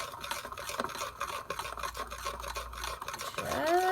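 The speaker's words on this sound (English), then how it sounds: "So all we're going to do is just stir this in really good." A spoon stirring a melted coconut oil and butter mixture for keto fat bombs: soft repeated scraping and swishing strokes against the bowl, quiet and close, with a brief higher squeak near the end.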